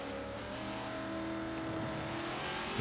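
A Corvette drifting in the Forza 7 racing game gives a continuous loud engine drone with shifting revs and tire noise, close and steady throughout, with no talking.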